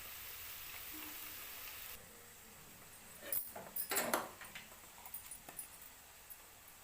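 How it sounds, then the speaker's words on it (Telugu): Okra fries in a pan with a faint, steady sizzle, broken midway by a few louder scraping stirs and clinks close by. "ఇక్కడ బెండకాయలు కూడా మంచిగా ఫ్రై అయినాయి కదా"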